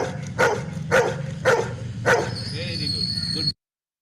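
A dog gives four evenly spaced barks, loud and close, one about every half second, followed by a brief lower whimper before the sound cuts off.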